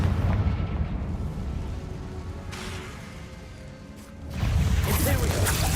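Heavy rumbling explosions from the Confringo blasting spell in Hogwarts Legacy, a sustained loud roar that eases off and then surges back with a fresh burst near the end.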